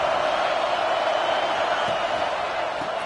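Stadium crowd noise roars in College Football 26 as the home fans try to rally the defense for a red zone stop, a loud, sustained wash of cheering that stays constant throughout.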